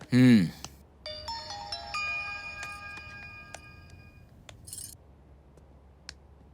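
A mobile phone ringtone rings in a short run of bright, stepped electronic tones that fade out, followed by a few faint clinks, with a brief vocal burst just before it.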